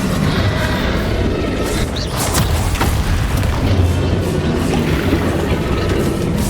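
A Bombardo spell explosion booms in the video game Hogwarts Legacy, one sharp blast over a dense, loud wash of continuous game noise and rumble.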